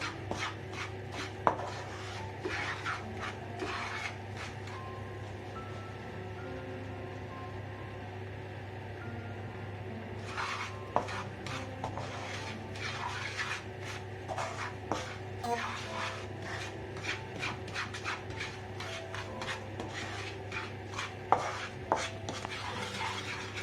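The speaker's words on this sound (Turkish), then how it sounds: "5 dakikaya yakın bu şekilde karıştırıyoruz" Kuymak, a cornmeal dish, being stirred in a pan, with scraping and tapping strokes against the pan repeating steadily over a continuous low kitchen hum, with faint speech in places.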